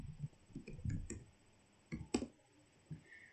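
Someone types a command on a computer keyboard, producing a handful of light, close key clicks in small uneven bursts separated by short pauses, in a quiet room with no talking.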